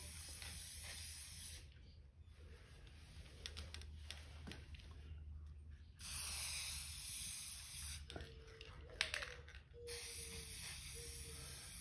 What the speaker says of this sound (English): Then we'll just give this guy a little overspray as well.